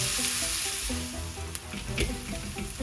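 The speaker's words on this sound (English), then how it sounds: "add in your chopped onion and let it cook for a few minutes" Chopped onion fries in a heated pan while a pasta and mixed vegetable dish in creamy sauce is being made, giving a steady, close sizzle with soft crackles and no talking.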